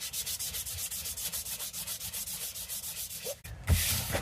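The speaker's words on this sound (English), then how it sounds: "with a sanding stick." Sanding stick rubbed back and forth along the rough cut edges of a Halloween build piece, a steady close scratchy rhythm of quick strokes, ending with a couple of louder knocks and handling noises.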